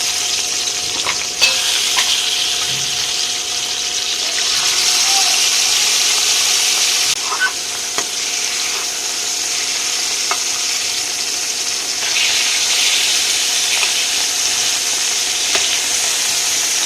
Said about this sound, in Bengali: ফ্রাই প্যানে তেল দিয়েছি, তেল গরম হয়ে গেছে। এখন কোয়েল পাখিগুলো ভেজে নিব